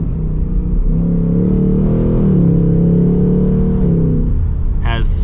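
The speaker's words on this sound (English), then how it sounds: "Sounds amazing with the exhaust in the track mode." A 2024 Ford Mustang GT Premium's V8 exhaust in track mode with a 10-speed automatic: a loud, close, deep droning burble that swells slightly while driving, then eases, ending with a brief sharp noise.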